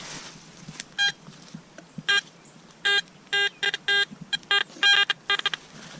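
A metal detector signals on rust at a possible Civil War site, giving a run of short, bright electronic tones, repeated pulses in irregular bursts over a low background hum, with no talking.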